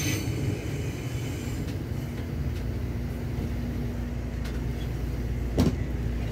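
Commuter train running near Manggarai station in Jakarta, a steady low rumble and hum of the moving carriages with a faint sustained tone, heard from inside the car with no talk.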